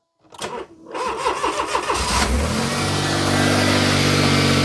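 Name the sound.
Smart Fortwo 450 engine starting and running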